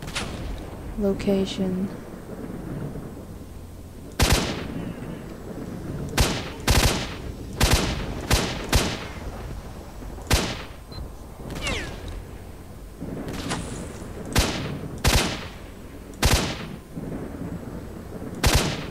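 Gunfire in the video game S.T.A.L.K.E.R. Shadow of Chernobyl, loud single shots and short bursts cracking at irregular intervals, some close and sharp, with someone talking between and over them.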